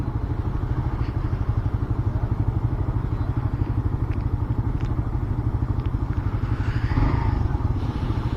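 A Suzuki GSX-S150 motorcycle engine drones loudly and continuously as the rider holds the throttle open to overtake, with a steady pulsing rumble and wind noise throughout.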